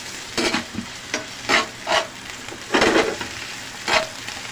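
Long green chilies and shrimp paste sauté in a hot pan, a loud close sizzle broken by repeated scraping stirs in an uneven rhythm, with no voices.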